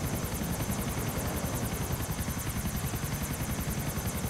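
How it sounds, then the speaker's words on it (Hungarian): Helicopter in GTA IV flying with a steady, rapid rotor chop over a continuous engine whine, loud and close throughout with no talk. "Már rég vezettem ezt a helikoptert."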